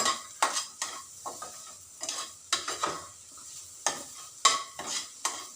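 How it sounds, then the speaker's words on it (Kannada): Grated carrot roasts in a spoonful of ghee over a low flame, with repeated scraping stirs of a spoon against the pan over a soft, continuous sizzle, close and fairly clear. "ಈಗ ನಾನು 1 ಸ್ಪೂನ್ ತುಪ್ಪ ಹಾಕ್ಬಿಟ್ಟು ಇದನ್ನು ಹುರಿತಾ ಇದ್ದೀನಿ"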